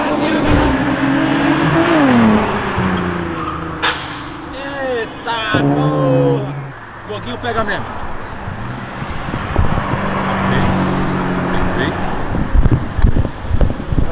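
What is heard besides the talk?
cars accelerating and revving, V6 engine roar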